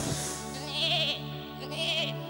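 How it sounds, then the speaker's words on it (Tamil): A young goat kid, stuck in water, gives a couple of close, wavering bleats, heard alone and fairly loud. "குட்டி ஆடு தண்ணிக்குள்ள மாட்டிக்கிட்டு"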